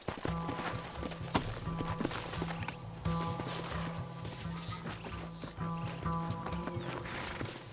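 Horse hooves clip-clop in the Red Dead Redemption video game, a steady rhythmic trot of several horses over the whole stretch, mixed with low rumbling ambience and occasional knocks.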